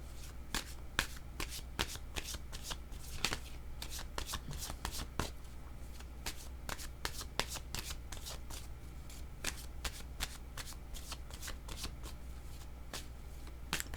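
Tarot cards shuffled by hand in a steady stream of crisp riffles and slaps, close and clear, with no talking over them.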